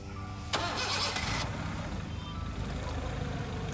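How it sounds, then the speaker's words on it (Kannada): A Honda City car engine cranks and catches after a brief starter whir, then settles into a steady, smooth idle heard up close, with no voices over it. "ನೋಡ್ಬೋದು ಗಾಡಿನೂ ಸ್ಟಾರ್ಟ್ ಆಗಿದೆ. ಎಷ್ಟು ಸ್ಮೂತ್ ಆಗಿದೆ"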